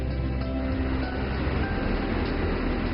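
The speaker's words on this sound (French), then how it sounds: "350 trains à grande vitesse, CRH 380, roulent sur la LGV Beijing-Shanghai à une vitesse supérieure à 300 km/h" A CRH380 high-speed train runs on the Beijing-Shanghai line at over 300 km/h, producing a continuous loud rumble with a steady rushing roar throughout.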